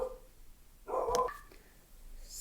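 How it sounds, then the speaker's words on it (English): A pet dog gives a short, sharp bark or two at someone arriving at the house, fairly close and loud, in a quiet indoor room. "Somebody came by and the dog freaked."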